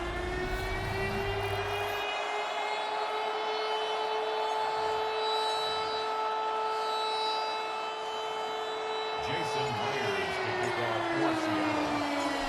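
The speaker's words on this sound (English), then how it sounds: "the Cardinals listening for the sound of their signature big red siren, which signals an air raid" A loud air raid siren in the Madden NFL 26 video game's Cardinals stadium wails with a steady rising tone that holds, then slides lower near the end, sounding alone.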